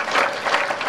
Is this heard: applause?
yes